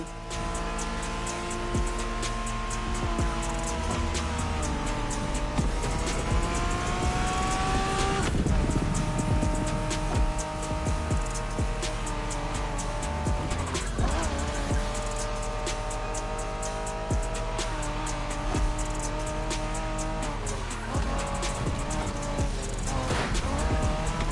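A Honda NSX engine roars continuously in a racing game, revving up and shifting gears loudly, with occasional tire squeal throughout.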